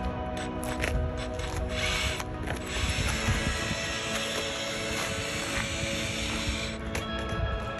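A bomb squad robot's gripper mechanism grinds and whirs steadily at close range. Ratcheting clicks and gear noise carry on continuously, with brief sharper clicks, during a public science festival demonstration.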